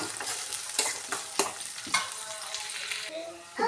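Carrot pieces fry in a pan with green chilli and onion, a steady close sizzle broken by several sharp scraping strokes of a spoon stirring, with no voices.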